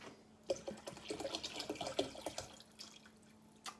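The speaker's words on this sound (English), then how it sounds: "add a bit of tap water to this" Tap water runs and splashes steadily into a vessel for diluting Ukrainian mead made with hops and wheat rusk, with intermittent drips and small bursts of pouring, close and fairly quiet.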